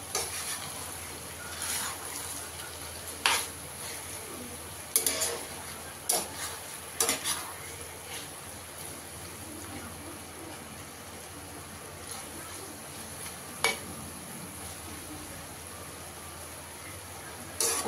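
Water lily stems frying in a pan with a little sugar, a low steady sizzle under scattered scrapes and clicks of a stirring utensil, moderately faint and close.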